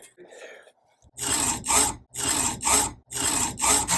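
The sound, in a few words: hand saw cutting an arrow nock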